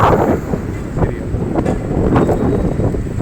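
Loud, constant wind roaring across the microphone, a heavy low rumble with gusty surges and no pause.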